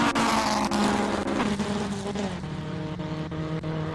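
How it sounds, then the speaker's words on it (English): A classic Alfa Romeo Giulietta Sprinter racing car climbs a hillclimb course, its engine snarling loudly and close with rising and falling revs and sharp gear-change breaks, a raspy exhaust note throughout. "Here is the Alfa Romeo Giulietta Sprinter Trevorini Tarquini in the livery of the original 70 years celebration of the Alfa Romeo Giulietta"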